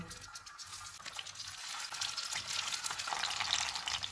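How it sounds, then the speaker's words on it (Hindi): Prepared keema kebabs frying in a few spoonfuls of oil on a tawa over medium-low heat, a continuous close hiss and bubbling sizzle that grows slightly louder toward the end, without voices. "इसमें तैयार किए हुए कबाब रखेंगे।"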